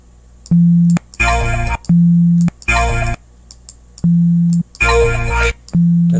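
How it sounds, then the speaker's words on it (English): A synthesized sine wave at a fundamental frequency, made with KTERM synthesis, plays as a steady low pure tone in short repeated pulses. Louder buzzy bursts alternate with the pulses in an irregular on-off pattern. "that's a sine wave of a so-called fundamental frequency"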